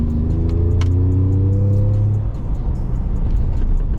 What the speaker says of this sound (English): Definitely hear the turbo a little bit more there